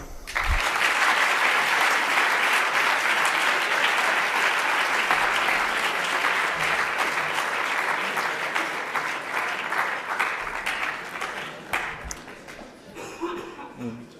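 Sustained applause from a large audience at a French eloquence contest final, dense and steady for most of the stretch before thinning near the end, with a few chuckles mixed in.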